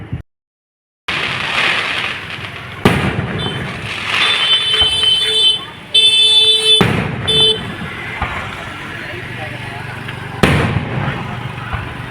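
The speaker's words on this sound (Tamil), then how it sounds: "அதை முடிச்சுட்டு வானடிக்க விட்டாங்க" Fireworks burst at a Thiruchula Pidari Amman temple festival, sharp loud cracks and booming blasts recurring every few seconds amid crowd noise and a high whistling tone, with a brief silent gap near the start.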